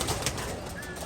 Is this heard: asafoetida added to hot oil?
no